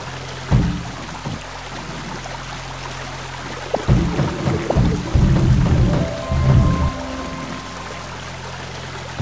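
Flowing water in the puzzle game Bob Came In Pieces, a steady rushing, pouring sound with a low hum underneath, broken by several louder clunks and splashes in the middle.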